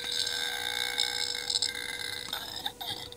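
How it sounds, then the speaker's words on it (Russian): A Moose Ugglys Pet Shop toy doghouse plays an electronic farting sound effect, a short buzzy blurt from a small speaker, close and fairly faint, with a steady electronic tone underneath. "Пукнул."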